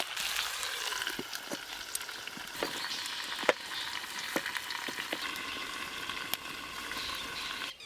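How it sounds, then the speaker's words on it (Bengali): Steady soft sizzle of chicken and spices frying in a covered pan, with scattered small pops and crackles throughout, fairly quiet and close. "এবার চাপা দিয়ে দিয়ে খুব ভালো করে কষে নেব।"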